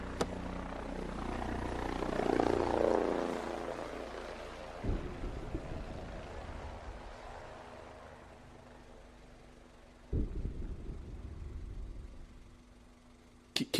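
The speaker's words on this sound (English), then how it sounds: "Do you hear that? That's a helicopter." A low, steady mechanical drone like a helicopter passing at a distance, swelling early and then fading, with a few sharp knocks partway through.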